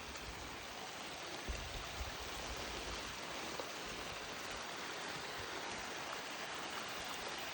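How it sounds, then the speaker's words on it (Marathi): A small forest stream by a roadside flows with a steady broadband rush and gurgle, even and continuous, close by and alone without voices. "झरा बघा किती छान आहे इथे."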